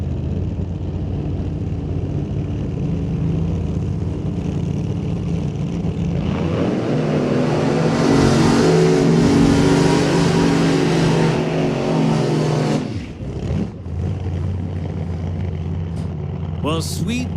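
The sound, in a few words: drag racing car revving for a burnout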